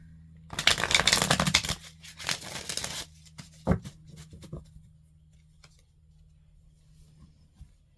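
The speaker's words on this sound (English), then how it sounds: "One more shuffle and then we'll cut the deck." A tarot card deck is shuffled up close, with a dense burst of riffling card noise for about two and a half seconds, then a few isolated taps and soft handling sounds trailing off into quiet.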